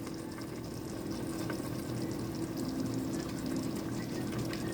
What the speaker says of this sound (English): So I mixed the peanut sauce with water here. So just gonna pour it down.